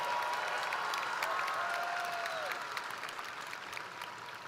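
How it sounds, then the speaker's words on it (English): Applause fills a high school graduation ceremony, a broad, sustained clapping from a large crowd that gradually softens toward the end, with a faint tonal sweep in the background. "Let's give a big round of applause to Kevin and his family for a job well done"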